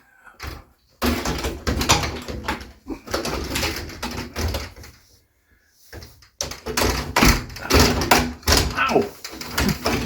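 A mirrored closet sliding door being fitted into its track, with bursts of knocking, scraping and thudding as the panel is worked in, separated by short pauses, close and fairly loud, with people talking throughout.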